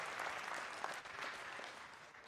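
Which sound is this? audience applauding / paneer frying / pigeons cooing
audience applauding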